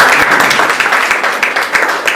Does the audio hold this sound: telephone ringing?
no